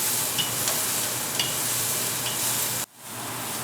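Green beans (sijidou) being stirred in a hot pan, giving a steady, loud sizzle of frying with a few faint scrapes, before a brief drop near the end.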